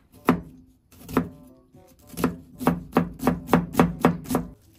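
Knife chopping onion on a cutting board, a few slow separate strokes first and then a steady run of rapid, evenly spaced thunks, close and clear with no talk over them.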